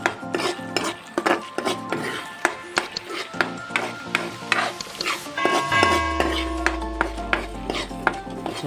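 Chicken masala with cumin and coriander powder stirred in a pan for Punjabi style gravy: repeated sharp clinks and scrapes of a utensil against the metal pan in an uneven rhythm, with a low hum rising partway through.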